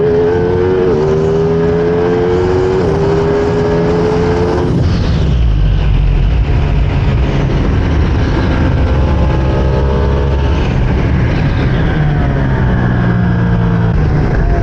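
A 600 cc motorcycle engine revs and accelerates through the gears, pitch climbing, dropping at each shift, then climbing again, loud and close throughout.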